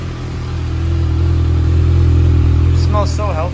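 Kawasaki ZX6R race bike engine running steadily after a cold start, a loud close low rumble holding throughout, with a person starting to talk over it near the end.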